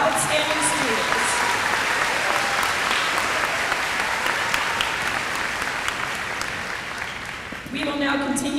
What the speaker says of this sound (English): Let's give another round of applause for our outstanding students.